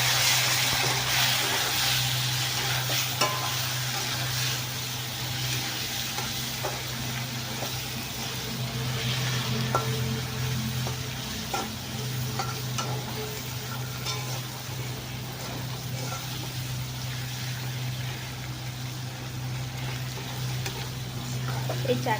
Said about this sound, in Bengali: তো এই যে মাছটা আমার ভাজা হয়ে গেছে, দেখো এর মধ্যে দিয়ে দেবো পেঁয়াজ কুচি,